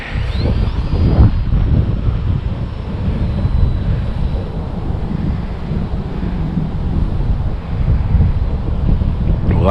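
Wind blowing at a glider flying field, a steady loud roar buffeting the microphone throughout with gusty swells and no talk.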